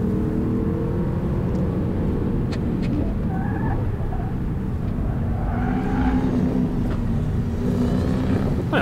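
A Lexus IS V8 car is driven hard on a race track, its engine a continuous droning roar with shifting pitch and the occasional chirp of a passing bird.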